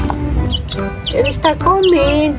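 A baby chick peeping while it eats: several short, high, rising peeps come close by, mixed in with a person speaking.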